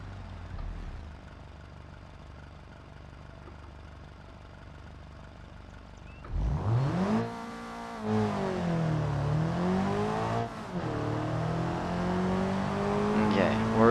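A car in BeamNG Drive launches down a drag strip after a quiet idle, its engine revving hard through rising and falling gear sweeps, loud and close, with a voice talking over the run.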